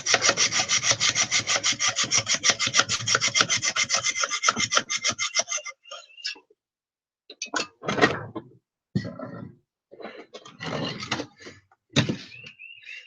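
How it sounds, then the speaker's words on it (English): A hacksaw rasps through a rock in fast, even back-and-forth strokes, then slows into scattered, uneven bursts separated by pauses, close and clear with no talking. "I'm like all the way through with this hacksaw."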